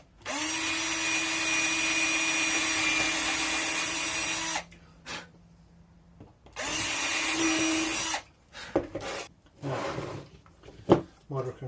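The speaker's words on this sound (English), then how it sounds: "now I've marked my 2 holes that I'm going to drill for the screw" A power drill with a 1/8 inch bit bores screw holes, giving two long loud whirring runs separated by a short pause, followed by scattered clicks and handling noises.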